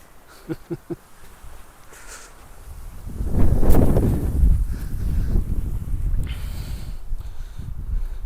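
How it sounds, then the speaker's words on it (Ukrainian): Cold wind rushes and buffets against the microphone on a hike at Kamen Del, a low, continuous roar rising after a few seconds and staying strong, with a few faint clicks early on. "Холодно. все-таки вітряно."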